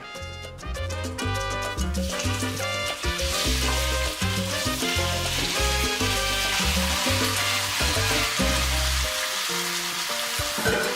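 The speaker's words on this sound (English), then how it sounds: "I'm going to start cooking off the pork and browning it" Pork browning in hot oil gives a steady, close sizzle that runs the whole time beneath prominent background music, with no talking.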